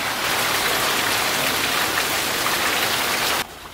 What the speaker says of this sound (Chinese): 好大雨啊出边。